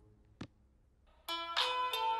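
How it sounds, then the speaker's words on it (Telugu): A mobile phone ringtone starts up in a quiet room after a brief knock, playing a loud, bright electronic melody in repeated bursts. "ఫోన్ వస్తుంది"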